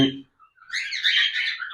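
A cockatiel's bright, busy chirping fills most of the moment, following a short burst of low talk at the start.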